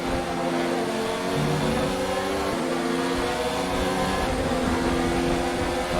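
Mercedes Formula 1 engine in the racing game F1 2019 holds a loud, steady, droning whine for several seconds, with its pitch shifting slightly as the car runs at speed.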